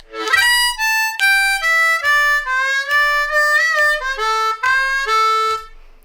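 A D harmonica repeats a blues lick, bending the 3 draw a half step and landing on the 2 draw, a run of eight punchy, descending reedy notes played close and alone with light tapping underneath.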